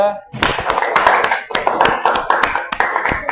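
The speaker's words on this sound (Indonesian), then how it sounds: "Tepuk tangan dulu untuk kelompok 2" A classroom group in Indonesia breaks into applause for group 2, a short burst of dense clapping from many hands, close and loud, lasting a few seconds after a brief pause.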